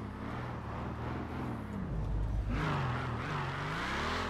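A Mercedes Brabus in the video game GTA 5 revs and accelerates, its engine note rising and falling in pitch with a steady, close, moderately loud drone.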